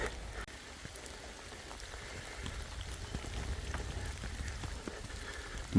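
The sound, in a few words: rain falling during a dog walk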